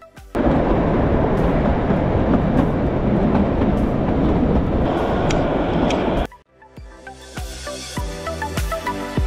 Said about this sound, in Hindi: नैनो गैस पे चलते हुए टॉय ट्रेन बहुत ही अच्छी लगती है